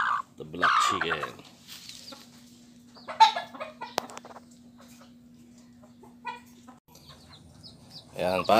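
Hens cluck in a farmyard, including a black chicken, with several close, scattered clucks and short calls, a steady low hum underneath and someone talking briefly.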